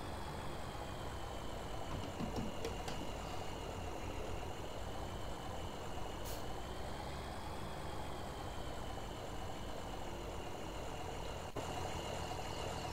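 Tractor engine in the video game Farming Simulator 17: a steady, droning mechanical hum with a constant whine, unchanging throughout, with a few faint clicks and no speech.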